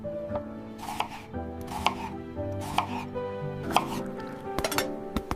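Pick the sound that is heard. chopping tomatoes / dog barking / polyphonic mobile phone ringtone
chopping tomatoes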